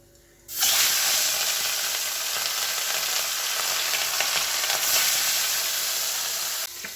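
Fish dropped into smoking-hot oil in a pan bursts into loud, steady sizzling frying that starts abruptly and continues evenly at close range, then drops off sharply at the end.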